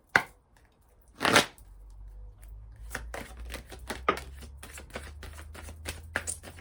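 Oracle cards from the Triade oracle deck are shuffled by hand in a quiet room: a brisk riffle, a pause, then a long run of quick, close papery flicks and snaps.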